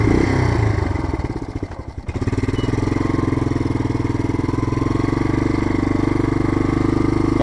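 A Yamaha Big Bear 350 ATV engine revs hard and steadily, a loud close mechanical drone with a brief dip in throttle near the start before holding high.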